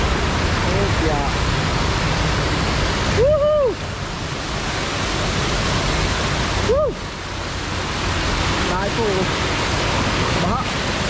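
Floodwater rushing across a mountain road during heavy rain, a steady loud broadband roar filling the whole scene, with brief voices breaking in over the top.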